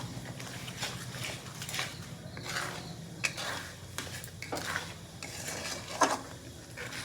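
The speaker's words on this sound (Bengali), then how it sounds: "মশলাটা দিয়েও আমি ভালো করে কষিয়ে নিলাম।" A spoon scrapes and stirs spice masala paste in a pan while it sautés for a whole chicken curry. The faint, uneven scraping and soft knocks repeat throughout.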